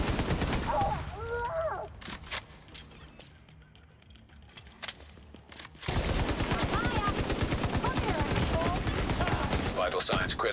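Rapid automatic gunfire from a video game shootout, dense bursts filling the first two seconds, a quieter lull, then a sustained loud barrage from about six seconds onward with brief voice fragments in between.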